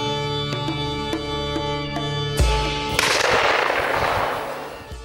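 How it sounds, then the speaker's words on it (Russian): A single sharp hunting rifle gunshot cracks out during an elk and roe deer hunt at the Braslav Lakes, over a steady droning background, followed by a rolling, fading echo. "Первый выстрел оказался промахом"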